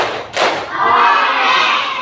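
Elementary school children in a classroom clap together on cue as part of a clap chant: one sharp collective clap, followed by a swell of excited crowd noise and voices.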